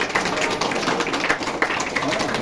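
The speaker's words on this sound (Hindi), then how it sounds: "ताली बजा बेटा सब लोग" A group of children claps together at a drama workshop, a dense, steady patter of many hands fairly close by, lasting a couple of seconds.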